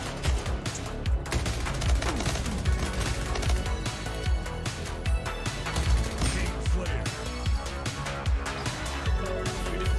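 Rapid SMG gunfire in the Splitgate arena shooter, dense bursts of shots and impacts layered over a busy game mix with music, steady and loud throughout.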